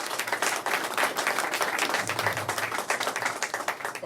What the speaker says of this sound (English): give yourself a round of applause and thanks